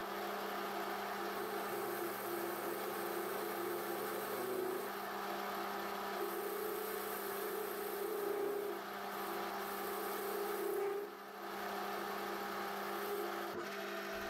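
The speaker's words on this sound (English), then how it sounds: "My lathe couldn't machine it all at once, so I'm taking steps until the chamfer is finished." A metal lathe cuts a chamfer on a stainless steel boring bar holder in several passes, giving a steady, continuous machine hum with a faint tonal whine that holds level throughout and briefly dips near the end. No one speaks.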